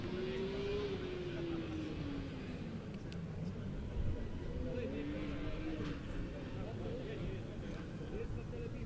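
A Munich Motorsport Formula Student race car screams through an autocross run, its engine note rising and falling with shifts under constant crowd and commentary talk, loud and steady throughout.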